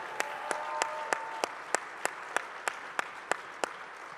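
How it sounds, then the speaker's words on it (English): Audience applause for soldiers at an indoor dinner event, a moderate round of clapping from a crowd with regular sharp claps standing out over the steady patter. "let me hear maybe an applause for the soldiers of the IDF who are here tonight"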